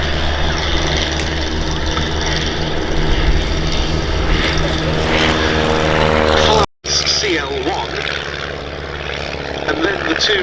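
Piston aircraft engines drone loudly and steadily at an air show, with Fokker Dr.I triplanes among the display aircraft, their rumble briefly cutting out before resuming, with a voice faintly over it.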